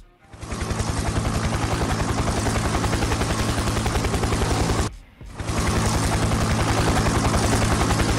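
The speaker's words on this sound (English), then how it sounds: "Chopper is here." A helicopter arrives in the Roblox game Gun Squad, its loud, close, rapid rotor chop thudding continuously, cut by a brief drop in the middle before resuming at full force.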